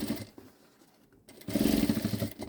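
A sewing machine stitches along a folded milk carton being turned into a bag, its motor starting and whirring steadily and close for about a second after a brief lull.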